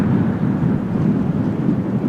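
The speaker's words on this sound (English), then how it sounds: "It is a windy day over here." Wind buffets an outdoor microphone on a blustery day at a roadside spot, a steady low rumbling roar that fills the clip without letup and with no voices.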